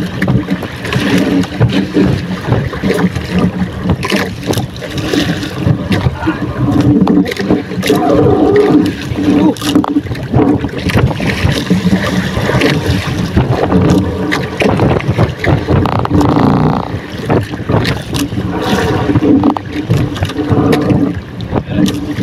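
Strong wind at sea buffets the microphone aboard a small boat, a loud, gusty rumble that persists throughout with splashing water mixed in.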